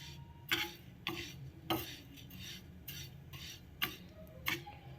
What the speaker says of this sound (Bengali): চালটাকে একটু আমি নেড়ে চেড়ে নেব। সুন্দর করে ভেজে নেব।